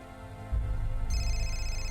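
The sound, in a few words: telephone ringing in Indigo Prophecy video game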